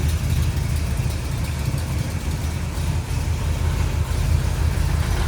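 A 1966 Ford Fairlane GT 390 engine idles steadily, a deep continuous rumble with a smooth, even throb and no revving, close by.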